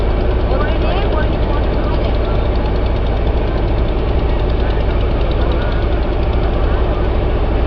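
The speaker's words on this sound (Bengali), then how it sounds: "জলঙ্গি নদী থেকে ফেরি করে নৌকা, তাতে করে আমরা এখন যাচ্ছি" A boat engine on a river ferry crossing the Jalangi river drones loud and close, a constant low knocking rumble with steady vibration and no pauses.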